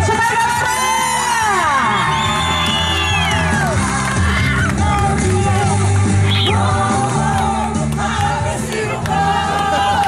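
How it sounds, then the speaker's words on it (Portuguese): A lively party crowd in Jardim Cumbica, Guarulhos, cheers loudly, with whoops, high children's shouts and many overlapping voices. The noise stays full and close for the whole stretch. "vocês também merecem uma salva de palmas bem forte, né, galera?"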